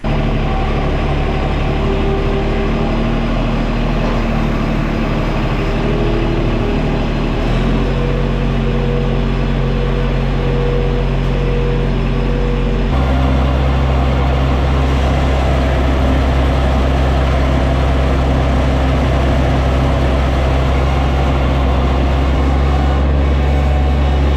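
A Splitfire 1165V log splitter engine runs at a loud, steady idle, its droning hum shifting pitch once partway through, close and continuous with no talk.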